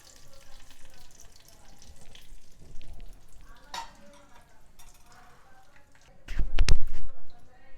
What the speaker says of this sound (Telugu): తాలింపు ఇలా వేగింది కదా, కరివేపాకు వేసుకొని ఇది కూడా వేగనివ్వాలి.